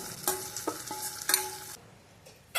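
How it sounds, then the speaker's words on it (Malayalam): Tempered mustard seeds poured into ginger curd, a few sharp clinks and scrapes of a ladle against a pan with brief bursts of sizzle, close and alone, then near silence. "നമ്മുടെ ഇഞ്ചി തൈരിലേക്ക് നമുക്ക് നമ്മുടെ കടുക് താളിച്ചത് ഒഴിച്ചു കൊടുക്കാം"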